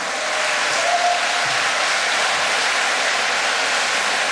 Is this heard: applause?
yes